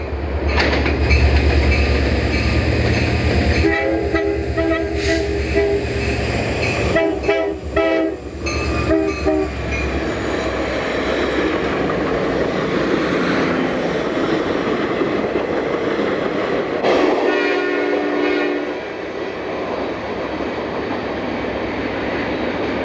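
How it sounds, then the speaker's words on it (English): Union Pacific Challenger 3985 steam locomotive rumbles past loudly with a sustained horn blast, rhythmic clattering of wheels on rails, and the roar fading toward the end. "The passenger cars follow a few minutes behind the steam engine."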